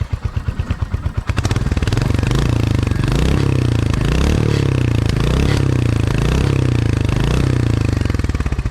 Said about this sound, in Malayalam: അപ്പോൾ സ്റ്റാർട്ട് ചെയ്തിട്ട് നമുക്കിതിൻ്റെ സൗണ്ട് ഒന്ന് കേട്ട് നോക്കാം.